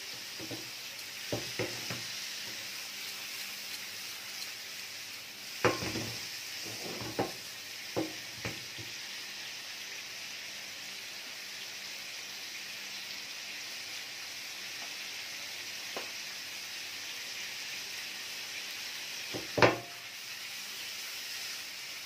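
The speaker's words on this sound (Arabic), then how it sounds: "اهو كده، بس كده. هو ده التقليب بتاعنا." Sausage frying in a pan for a quick oven sausage tray, with a steady close sizzle throughout and occasional sharp scrapes and knocks as it is stirred, clustered early and once more near the end.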